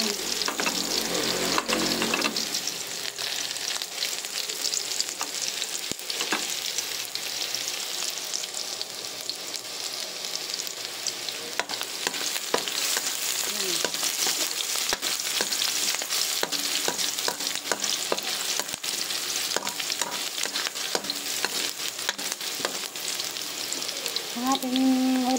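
Chopped onions sizzle steadily in a hot pan for a Filipino ground beef and string bean dish, with a constant bright crackle broken by repeated scrapes and knocks of stirring throughout.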